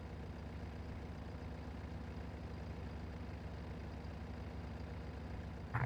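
Tractor engine in Farming Simulator 22 running steadily as a low, continuous rumble throughout, with a brief louder knock near the end.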